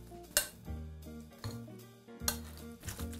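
A utensil stirring a thick mayonnaise mixture in a bowl, with soft scraping and a few clinks against the bowl as it is worked, quiet and close with steady background music.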